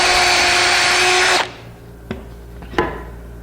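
A power drill with an 1/8 inch bit boring holes in wood with a backer underneath whines loudly up close for about a second and a half and then stops, followed by two sharp knocks of the tool against the wood.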